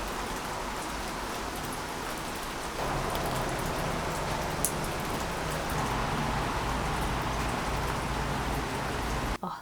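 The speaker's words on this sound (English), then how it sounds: "cut to that lovely rain footage that I took earlier today" Steady rain falls outdoors as a dense, even hiss of drops on surfaces, loud and continuous from start to finish with no talking.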